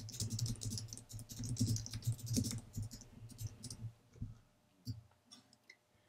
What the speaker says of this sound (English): and then you can write your caption in here